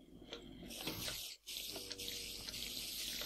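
Flowing water in Minecraft 1.3 running through a mob farm channel that a switch can stop: a continuous rushing, splashing stream with a brief dropout partway through, heard alone.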